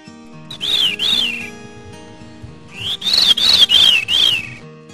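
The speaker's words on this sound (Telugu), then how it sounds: "eagle" An eagle gives two series of high, thin whistling calls, the first brief and the second a longer run of rising-falling notes, clear and alone with a short pause between them.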